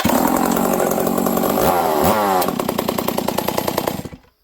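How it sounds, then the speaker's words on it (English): A Stihl 038 Magnum chainsaw with a faulty clutch roars loudly up close, its engine pitch sweeping down and dropping into a choppy, pulsing idle before it cuts out abruptly. "it's hard to pull over because the clutch is basically engaged almost all the time while the saw is running"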